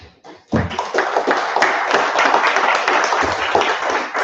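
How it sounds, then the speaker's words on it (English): A room of attendees at a NATO Summer School session applauds a panel: after a brief pause, dense, sustained clapping starts abruptly and continues steadily at an even level to the end. "We'll give a round of applause to our panel."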